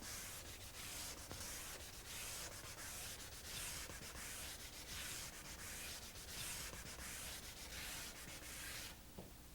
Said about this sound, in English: Use a piece of 220 sandpaper on the block.